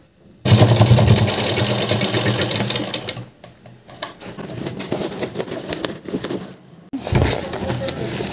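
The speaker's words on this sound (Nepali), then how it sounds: "यहाँनिरबाट यसलाई फर्काएर चारैतिर स्टिच हानिदिने।" Sewing machine stitching a waterproof shoulder bag, a fast close mechanical chatter in bursts that stop and restart, with a short pause midway.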